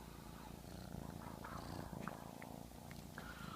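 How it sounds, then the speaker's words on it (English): Cats purring close to the microphone in a quiet room, a soft continuous low rumbling with faint small rustles. "I think you can still hear them purring."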